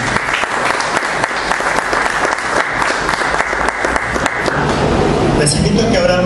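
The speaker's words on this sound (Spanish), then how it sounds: "Démosle ese fuerte aplauso de bienvenida." Strong applause from a church congregation welcoming the Holy Spirit, dense rhythmic clapping filling the space, with voices rising over it toward the end.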